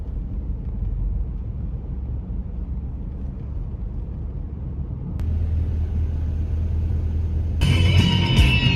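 A car driving on the way to a meetup, a steady low interior road rumble that thickens partway through and turns brighter and noisier near the end, with no talk.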